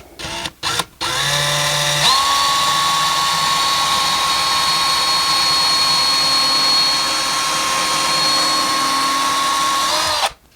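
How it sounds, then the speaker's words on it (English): Power drill boring a small pilot hole into a wall stud while mounting an over-the-range microwave, a steady high whine held for about eight seconds after a brief start-up, close and loud with no talking. "we're going to drill a small pilot hole right in here"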